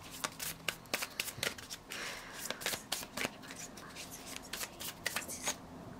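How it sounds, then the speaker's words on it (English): Tarot cards shuffled by hand, a quick run of crisp riffling and slapping flicks in an irregular rhythm, close and fairly quiet. "think about your person while I shuffle."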